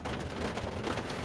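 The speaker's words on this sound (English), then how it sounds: "it's starting to rain on me, so that's what all that noise is" Rain starting to fall in Jefferson Parish, a steady soft patter that fills the short moment evenly at close range, with no talking.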